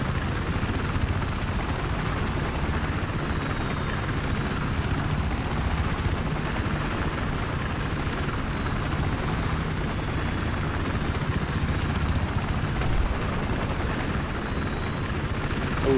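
Battlefield 3 helicopter rotor and turbine drone, a steady loud close thrum holding unchanged throughout with no other sounds.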